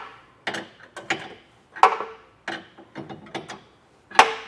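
Ratchet work on the hardware of a B&W Turnoverball underbed gooseneck trailer hitch: close, short bursts of clicking ratchet strokes in an uneven rhythm, separated by brief pauses.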